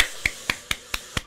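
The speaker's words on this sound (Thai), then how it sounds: "เมื่อผมปรบมือเลยฮะ" Five evenly spaced, sharp hand claps or snaps ring out close and loud in quick succession, each a crisp isolated crack.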